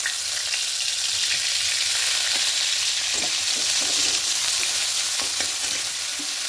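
Onion paste fries in hot oil over a high gas flame after fish has been fried, making a loud, steady, close sizzle with faint stirring scrapes.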